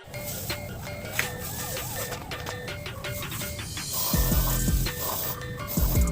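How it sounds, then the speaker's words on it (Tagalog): Contact cleaner is sprayed onto the MAP sensor of a 2016 Suzuki Celerio in short hissing bursts close to the mic, mixed with faint mechanical clicks and tool sounds, with a deeper rumble toward the end. "Bugahan natin siya ng contact cleaner."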